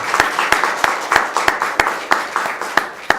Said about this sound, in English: Should we just clap and acknowledge Gary?